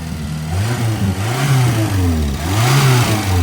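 An old green Renault 7 engine revving up close and loud, rising through two strong throttle blips with smooth falls between, a steady mechanical drone under each climb and no voices.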